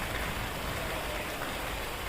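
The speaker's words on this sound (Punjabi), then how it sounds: "ਬਹੁਤ ਜ਼ਿਆਦਾ ਮੀਂਹ ਆ ਬਹੁਤ ਜ਼ਿਆਦਾ ਤੇਜ਼ ਆ ਇੰਨਾ ਤੇਜ਼ ਮੀਂਹ ਅੱਜ ਆਇਆ" Heavy rain pours down in a steady, dense hiss. It stays even and fairly faint throughout the short stretch, with no talking.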